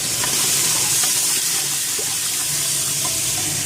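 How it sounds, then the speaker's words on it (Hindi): Spice masala for beef haleem fries in a pan with a little added water, giving a constant bright sizzling hiss with faint bubbling pops and no voices. "मसाले डाल देने के बाद थोड़ा सा पानी डाल के भूनूंगी।"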